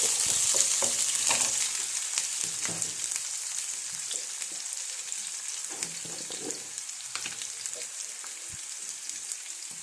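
Onions and curry leaves frying in a pan give off a steady, bright hiss, with scattered pops and soft clinks of stirring, close and continuous with no voices.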